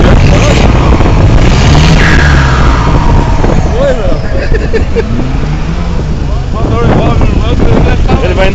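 A Ford F1000 pickup's turbocharged engine runs steadily and loud throughout, with buffeting wind noise and people talking over it.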